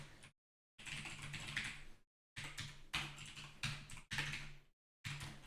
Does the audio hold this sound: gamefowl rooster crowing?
no